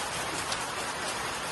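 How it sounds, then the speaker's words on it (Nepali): Hail and rain falling steadily in Nepal, a dense, even patter of many small impacts close by with no clear breaks, moderately loud and with no voices. "अहिले भर्खर मात्र यहाँ चाहिँ असिना पनि झरिरहेछ"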